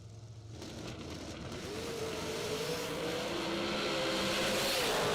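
A race car engine at a racer appreciation racing event, its exhaust shooting big flames, revs hard, swelling steadily louder and climbing in pitch over about five seconds with a dense roaring buzz.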